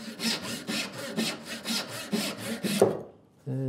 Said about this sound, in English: I've got a little bit of black walnut here and I'm going to cut my wedges